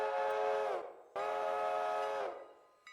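A train whistle sounds in the railroad video game Railroader: two long steady tonal blasts separated by a brief gap, loud and clear, with no talk over them.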